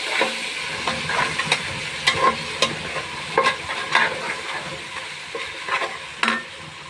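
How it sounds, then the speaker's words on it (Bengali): Spice paste with chilli and cumin powder fries in oil for beef bhuna, a constant sizzle broken by repeated scraping stirs of a spoon against the pan, close and fairly loud with no talk. "মশলা সুন্দর করে কষানো হয়ে গেছে তেল বেড়ে গেছে মশলায়"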